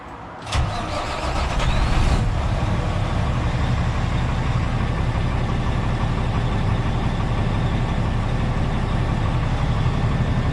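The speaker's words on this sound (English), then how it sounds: "Now, you wanna start your ride up." A coal truck tractor's diesel engine cranks briefly, catches and starts, then settles into a loud, steady, close idle that continues without a break.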